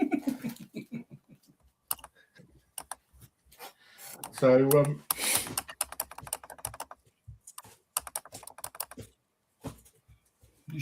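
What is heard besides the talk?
typing on a computer keyboard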